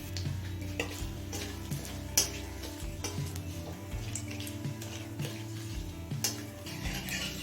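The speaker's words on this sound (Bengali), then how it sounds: "জিরে তেজপাতাটা তিরিশ থেকে চল্লিশ সেকেন্ড সময় নিয়ে লাল করে ভেজে নিয়েছি" Cumin seeds and bay leaves fry in hot mustard oil, a faint, steady crackling sizzle with occasional light utensil taps, heard quietly beneath a soft tonal background.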